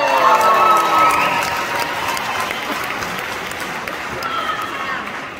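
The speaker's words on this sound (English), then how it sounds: "Always make me laugh when people cheer it." Concert audience at the Union Chapel cheering and applauding during a live show, a loud wash of clapping and shouts that gradually fades, with whistles and a few voices rising above the crowd.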